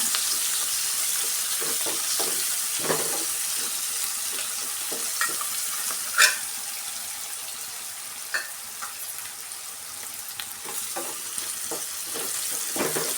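Cashew pieces frying in a pan give a steady hissing sizzle throughout, broken by occasional spatula scrapes and one sharper knock near the middle.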